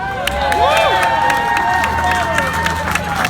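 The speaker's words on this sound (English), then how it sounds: "let's hear some cheering" A crowd cheers and applauds loudly and continuously, with whoops and shrill whistles rising above a dense wash of clapping and voices.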